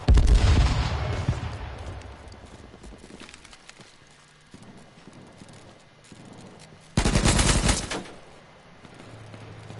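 AK rifle fire in the video game H1Z1, a loud burst of rapid shots at the start, then quieter ambience with scattered sounds, and a second sharp burst of automatic fire near the end.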